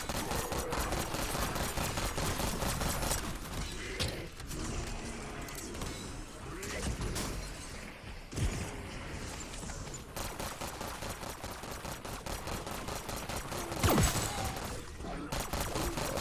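Dense, continuous gunfire from a video game shooter in Black Ops 6 Zombies, rapid bursts running almost the whole time, with a loud spike near the end and occasional voices mixed in.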